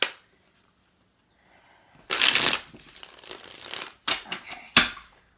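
Tarot cards being shuffled in several crisp riffling bursts, close up, separated by short quiet pauses, with no one talking.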